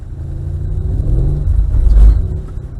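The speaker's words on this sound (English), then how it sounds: "Again, another little blip on the throttle" A Mercedes-Benz car on a track gives a quick throttle blip: the engine rumbles low, swells into a short close rev and settles back, with no voices.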